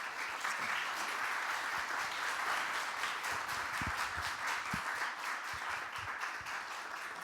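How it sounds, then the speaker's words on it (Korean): A church congregation breaks into warm, sustained applause to welcome the senior pastor, dense clapping at an even level with a few sharper individual claps standing out. "우리 박수로 큰 박수로"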